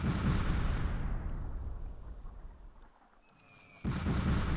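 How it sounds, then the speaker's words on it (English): Artillery fire in the WWII tactics game Close Combat, Normandy 1944: loud, dense rumbling barrage that fades to a quieter lull before a sudden heavy burst of blasts returns. "Here comes the artillery."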